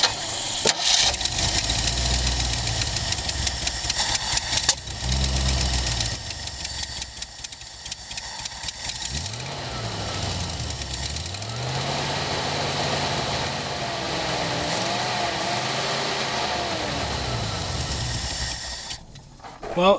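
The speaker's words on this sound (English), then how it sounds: "Well, it works, but it won't idle, so back to the drawing board." A small engine with a rebuilt carburetor runs roughly and will not settle into an idle, revving and sagging in uneven loud surges for the whole stretch, with a voice speaking over it.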